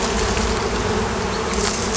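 Bees crawl over a frame holding a little brood, lifted from a hive where two late wild swarms are being combined, making a dense, loud, continuous buzzing close by.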